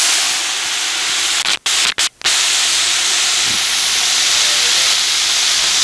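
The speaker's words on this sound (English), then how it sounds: "Listen to that sizzle, boy." Chicken frying in a pot for gumbo gives a loud, continuous broadband sizzle and hiss, broken by a few short gaps, with no talking.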